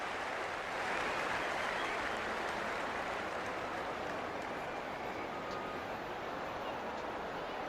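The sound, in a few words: stadium crowd cheering at rugby league kickoff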